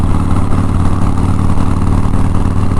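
A Custom motorcycle engine running steadily up close, a continuous low rumbling drone with no breaks, heard alone without voices.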